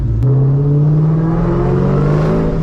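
A 2004 Ford Mustang SVT Cobra engine revving close up, a loud, sustained throaty drone that holds steady and climbs slightly in pitch, with no talking.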